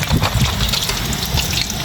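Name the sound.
sudden heavy rain water during a storm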